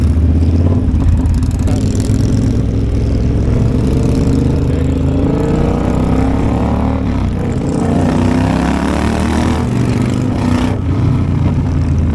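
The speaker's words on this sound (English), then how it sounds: "the sound of the engine noise." A Triumph motorcycle engine drones loudly and steadily, close by, during the Distinguished Gentlemen's Ride in Edinburgh, with its pitch rising and falling as the throttle shifts.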